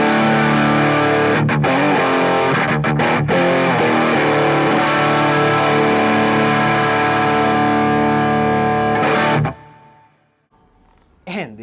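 A guitar chord through a Pro Co Lil Rat distortion pedal rings out heavily distorted and sustained, with a few quick chord changes, then cuts off and leaves near silence with a brief noise at the end.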